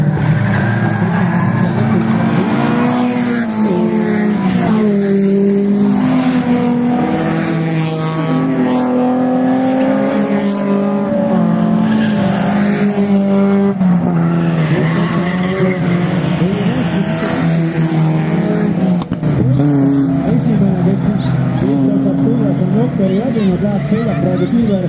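Rally cars in a racing superfinal pass by with engines revving up and down and tires skidding on the track, loud and continuous, with a commentator talking over the action.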